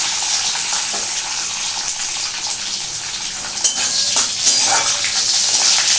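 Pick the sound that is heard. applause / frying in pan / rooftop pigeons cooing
frying in pan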